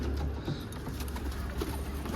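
Şekeri posta pigeons cooing softly at a fair distance over a low background rumble, a few faint calls spread across the moment.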